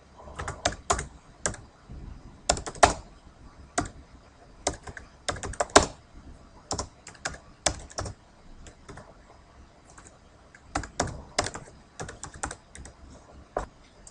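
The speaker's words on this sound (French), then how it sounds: "je clique sur le bouton et je tape mon texte" A computer keyboard is typed on in quick, uneven bursts of crisp key clicks, close and clear, with short pauses between runs and no speech.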